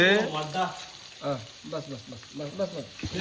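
Onions with ginger garlic paste fry and sizzle in a pan for village-style chicken biryani, a close crackling hiss that is stirred now and then. A voice is faintly heard beneath the sizzle.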